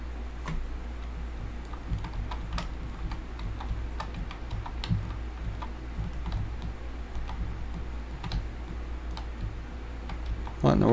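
Computer keyboard arrow keys pressed in a steady series of light clicks while drawing out a cutting board handle shape in design software, heard over a low constant hum.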